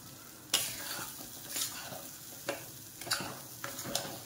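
Ground mung dal mixture stirred in a pan, a soft background sizzle broken by a handful of scraping spoon strokes at an irregular pace, close and fairly quiet.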